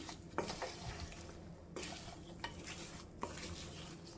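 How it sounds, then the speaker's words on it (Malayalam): A spoon scrapes and stirs sugar coating on diamond-cut snacks around a pan off the stove in quiet, repeated strokes, with soft clinks against the metal. "ഇനി സ്റ്റൗ ഓഫ് ചെയ്ത് വയ്ക്കാം എന്നിട്ട് ഇളക്കി കൊടുത്തുകൊണ്ടിരിക്കണം"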